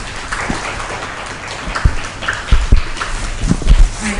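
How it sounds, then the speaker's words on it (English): Audience applause at a teen puppet troupe show in a public library, fairly light and scattered, with a few louder thumps and knocks standing out near the end. "Can you give them a round of applause just for being here?"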